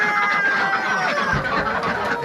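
Farm chickens cluck in a dense, close chorus, overlapping calls filling the short moment with no talk.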